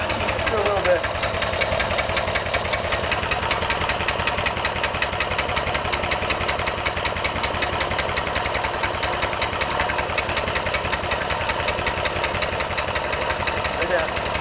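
A small engine fitted with a 22mm Mikuni carburetor idles low and rough with a steady rapid knocking pulse, close and continuous, while people talk nearby.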